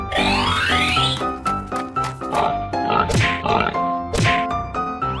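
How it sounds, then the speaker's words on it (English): A cartoonish pig oink from a 3D animal sliding game, brief and set against loud, bouncy game music with boing effects. "Pig."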